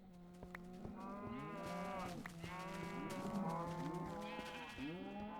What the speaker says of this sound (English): Loud ass cows.